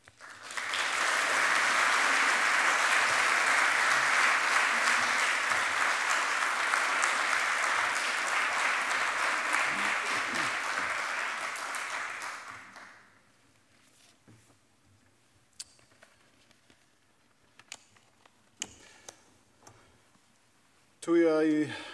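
An audience claps loudly and steadily for about twelve seconds to welcome a professor to the lectern at a university lecture on Māori masculinity, then the applause fades into scattered rustles and knocks before a voice begins.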